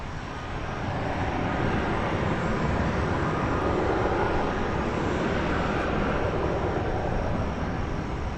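An American Airlines jet departing DFW airport, a loud continuous engine roar that swells in after the first second and holds steady, heard alone.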